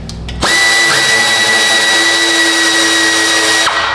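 A power tool whirs steadily while unbolting transmission lines on a Cadillac ATS 2.5 during an engine replacement, one loud, continuous run of about three seconds, close by, with no talk.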